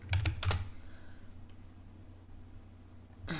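Keys clatter in a quick burst of typing on a computer keyboard, then a long quiet stretch before a few more keystrokes at the end, close and clear with no talking.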